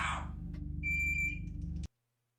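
A pet parrot mimics an electronic beep, producing a clear steady high tone lasting about half a second, with faint higher overtones, over a low background hum, before the sound cuts to silence.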